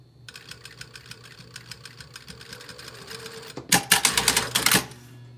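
A sewing machine stitches a double welt pocket in fast, steady mechanical rattles, then runs louder and quicker near the end. No one speaks.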